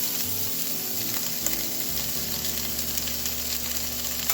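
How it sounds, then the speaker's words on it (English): Onions frying in hot coconut oil in a pan for a peas and potato curry, a steady close sizzle that holds without break, with a low hum underneath and no one talking. "Put in the onions"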